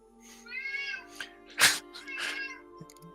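A cat meows several times in a row, drawn-out, pitched cries with one louder, harsher yowl in the middle, heard close up over a faint steady background hum.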